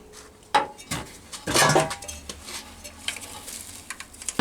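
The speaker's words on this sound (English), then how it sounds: "let's stick this pump on then" Metal parts knocking and clinking as a fuel pump with a new gasket is bolted onto a Rover P6 V8 engine, with a sharp clank early on, a louder rattle of metal in the middle, then lighter scattered taps, close by.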